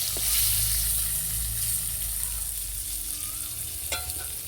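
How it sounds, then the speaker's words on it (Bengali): Whole and halved pointed gourds (potol) fry in hot oil, giving a steady, close sizzle with no talking over it. "এই পটলগুলো ভেজে নিয়ে মাছের সঙ্গে দেবো।"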